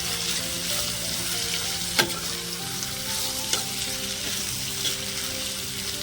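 Broad bean (chikkudukaya) curry simmers on low heat in a pan with a steady bubbling sizzle, broken by a few sharp spoon scrapes as it is stirred; no voices.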